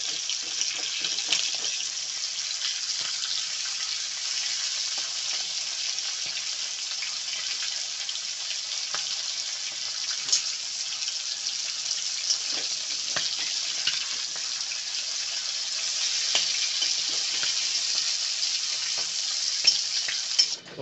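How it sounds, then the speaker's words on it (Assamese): Fish fries in a pan, a dense, steady hiss of spitting oil held close and continuous, with scattered small pops and faint clinks as the pieces are turned, no talking. "মাছটো ফ্ৰাই হৈ গৈছে"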